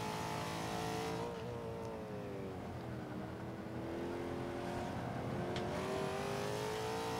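A Buick GNX in Forza 5 held in third gear through a turn, its engine droning at a steady pitch that dips and then climbs as it accelerates, sustained and fairly faint.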